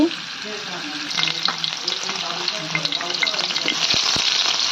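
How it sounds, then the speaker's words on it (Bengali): Oil heats in a wok on the stove, ready for frying sarputi fish, giving a steady close sizzle with scattered small pops and a faint low hum underneath. "অন্য চুলায় মাছ রান্না করার জন্য কড়াইতে তেল দিয়েছি।"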